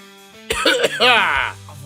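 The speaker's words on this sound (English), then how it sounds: "coughing his ass off right now" A single harsh cough bursts out close by, followed by a rasping throat-clearing sound, brief and loud against a quiet background.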